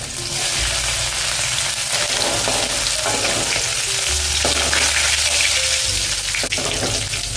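Steady loud sizzling of finely chopped garlic and ginger frying in hot oil in a pan, with occasional stirring scrapes, continuous throughout with no talking.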